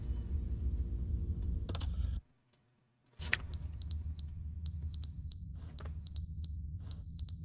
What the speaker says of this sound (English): Is that his alarm? Or is that a fire alarm?